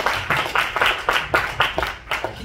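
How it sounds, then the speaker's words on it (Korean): Sparse group clapping in a chapel service at a Tuesday campus worship gathering, about eight distinct bursts in a loose rhythm, moderately loud with a low room hum underneath. "우리 박수 한번 합시다."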